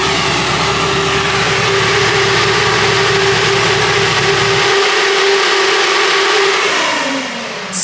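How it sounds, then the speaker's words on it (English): Cooling fans on a supercharged C8 Corvette roaring at a loud, steady whine with a constant hum, then the low rumble drops away while the high fan rush continues and begins to wind down near the end. "Oh, listen to the fans."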